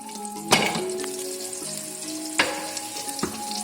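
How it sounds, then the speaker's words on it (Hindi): Ground spice paste sizzling in hot oil for beef nihari, a loud, close, steady fry with a few sharp clatters from stirring or utensils, and no talking. "इसको हम अच्छे से फ्राई कर लेंगे। जब तक ये फ्राई हो रहा है"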